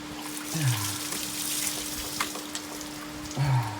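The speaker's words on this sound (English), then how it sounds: "Now the water's really gonna fall." Coolant water splashes and trickles from the radiator of a Jeep Liberty under repair, a steady close-up flow with a couple of brief gushes and a constant low hum behind it.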